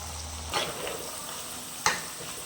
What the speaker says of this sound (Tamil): இது இந்த எண்ணெயிலே கொஞ்சம் நல்லா ஃப்ரை ஆகணும்